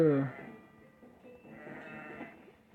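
Cartoon sheep bleating in the tower-defence video game Kingdom Rush, a short wavering bleat at the start followed by quieter game sounds and someone talking over it.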